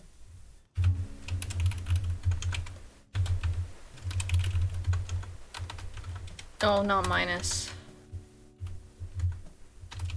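Rapid clicking keystrokes on a computer keyboard while coding in GameMaker Studio, close and steady in bursts with brief pauses, and someone speaks briefly over the typing.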